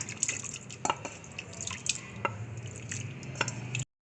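Cooked tamarind chutney is pressed through a sieve up close, giving soft wet squishing and dripping sounds with small scraping taps, fairly quiet, before stopping abruptly.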